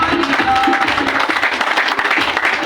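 Audience applause for a presenter at a New Year 2024 goal-setting seminar, a dense, steady wash of many hands clapping close and loud throughout, with a faint voice showing briefly early on.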